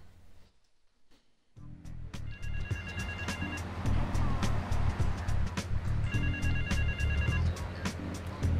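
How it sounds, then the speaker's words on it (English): Telephone ringing in Grand Theft Auto 3 Remastered on Xbox Series X, repeated electronic ring bursts over a loud engine and traffic rumble after a brief quiet start. "Is it a phone?"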